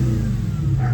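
A convertible car's engine, top down, hums close by with a low, throaty exhaust rumble, rising slightly in a brief rev near the end.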